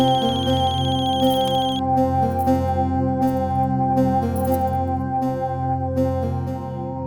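An electronic phone ringtone plays a looping melodic tune, loud and continuous, with no voices.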